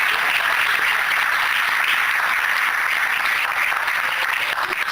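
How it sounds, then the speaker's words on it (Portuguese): Church congregation applauds during a sermon, sustained crowd clapping forming an even, full wash that continues steadily without talk. "Você pode aplaudir o Senhor por isso?"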